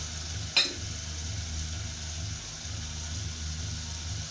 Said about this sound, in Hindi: अब मैं इसमें डाल रही हूँ गोश्त